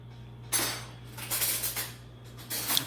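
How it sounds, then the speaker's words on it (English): A spoon scrapes and clinks against the metal bowl of an ice cream machine, digging out frozen dairy-free ice cream in a few brief bursts, close and fairly loud over a low steady hum. "Just dig your spoon in there."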